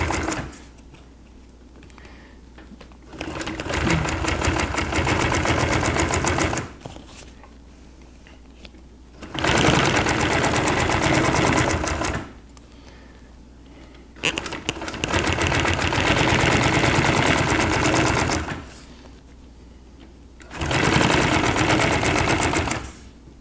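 A sewing machine stitches boat canvas in three long, loud runs of rapid mechanical chatter. Brief quiet pauses separate the runs.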